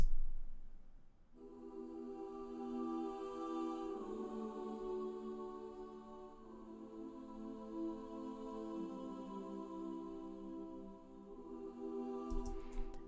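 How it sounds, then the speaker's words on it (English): Soft sustained choir voices hold smooth chords that shift slowly, a gentle synthetic ensemble pad with no other instruments. "I will program these lines into the choir libraries I have"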